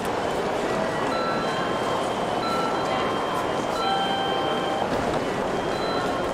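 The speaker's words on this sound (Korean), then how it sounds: "일본 도쿄의 지하철역." A busy Tokyo subway station in Japan fills the air with a constant rumble of trains and crowd noise, with faint tonal chimes or announcements drifting over the steady din.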